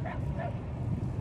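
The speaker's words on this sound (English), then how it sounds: "I think he's barking at me." A dog at a Lake Michigan shore in January gives two quick barks close by, over a low rumble of wind and water.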